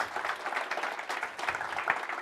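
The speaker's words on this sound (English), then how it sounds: "Big round of applause." Audience applause after a keynote session, a steady dense wash of clapping that continues without pause throughout, fairly loud and close.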